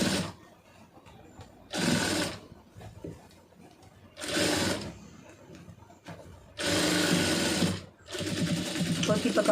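A sewing machine stitching a blouse whirs in several short bursts, with pauses between them where a person talks quietly.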